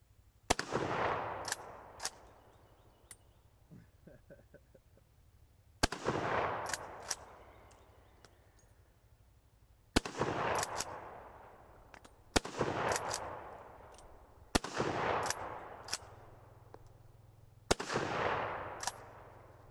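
A military surplus bolt-action rifle fires six loud, sharp shots spaced a few seconds apart, with faint metallic bolt-cycling clicks between them.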